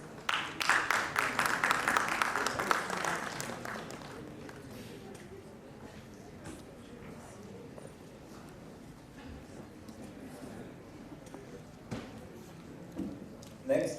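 An audience at a National Entrepreneurship Summit panel discussion gives loud applause to welcome a panelist to the stage. The clapping swells over the first few seconds, then fades to a few scattered claps and quiet room noise.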